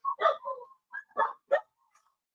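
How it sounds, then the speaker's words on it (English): Dogs bark in quick, sharp bursts, several yips and woofs in an uneven string with short gaps, fairly close and loud, with no talk over them. "I hear your dog's going crazy."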